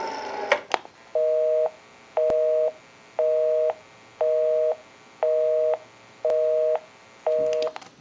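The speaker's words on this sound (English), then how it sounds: "We'll call my number, and it'll be busy. Give you some dial tone." A Western Electric AT&T 554 rotary wall telephone plays a busy signal, evenly spaced tone bursts, about seven beeps at a steady rhythm, clear and close, after a brief bit of clicking at the start.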